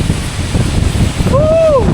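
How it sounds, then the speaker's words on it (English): A Himalayan waterfall pours down in a rough, continuous roar, close by and buffeted by wind on the microphone, with a rising vocal whoop near the end. "How to really feel the waterfall like this, getting wet."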